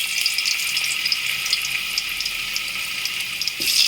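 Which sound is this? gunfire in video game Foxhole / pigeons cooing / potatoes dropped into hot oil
potatoes dropped into hot oil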